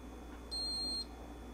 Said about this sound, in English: It'll beep after a few seconds and the time will be set.